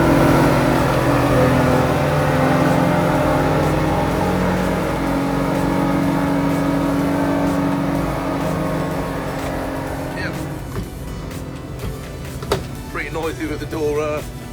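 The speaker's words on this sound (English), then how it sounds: "Let's just have a listen to the sound of those engines." Twin engines of a Jeanneau Merry Fisher 1295 motorboat on a trip near Dartmouth drone loudly and steadily through an open cabin door, a low harmonic rumble that thins into rushing wind and water clatter near the end.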